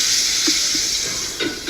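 Salmon frying in a hot pan gives a steady, close sizzle and hiss with a few small pops and spatters, and no voices.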